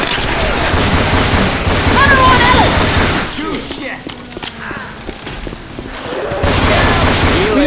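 Sustained gunfire in Left 4 Dead 2, loud bursts at the start and end with a quieter lull in the middle, while a voice shouts over the shooting.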